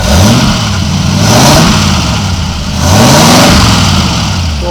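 A 1940s English special with a Ford flathead V8 engine revs hard, repeatedly rising and falling in pitch, loud and close with no talking.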